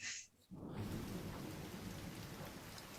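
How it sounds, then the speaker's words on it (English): Cold night rain pours steadily with a low rumble of thunder rolling underneath, beginning abruptly after a brief quiet moment and continuing as a dense, even wash. "you guys are standing outside Broderick Quink's house in the cold rain, 10:15 at night"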